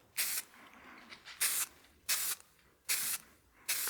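Five short bursts of flexible spray lacquer hiss from an aerosol can in a steady rhythm, close to the microphone, with quiet pauses between them.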